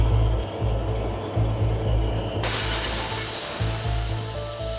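A fire extinguisher is discharged onto a burning phone battery at seat 2A inside an Airbus A330 cabin, giving a loud, steady spray hiss that holds for several seconds and grows brighter and fuller halfway through.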